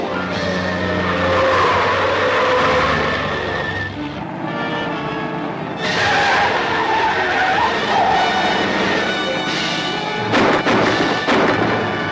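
A car skids on a road in a 1945 Western chase, tires scraping in long noisy sweeps over a steady engine drone, loud and close with brief breaks, no talking.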